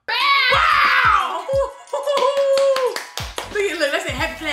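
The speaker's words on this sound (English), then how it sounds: "that's a happy clap" Happy hand clapping during a king crab seafood feast: a few quick, close claps mixed in with excited talk, laughter and squeals from people at the table.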